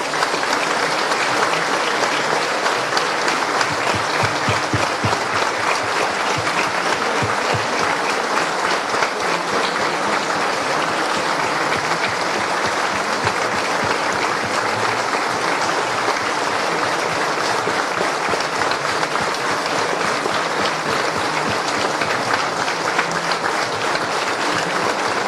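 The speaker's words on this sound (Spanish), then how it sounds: "Quiero que hagamos un minuto de aplausos en memoria de ellos." An audience at a political commemorative event holds sustained, dense applause for a long stretch, an even wall of clapping from a large crowd without pause.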